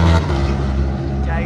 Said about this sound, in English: Here comes the Ducati V4!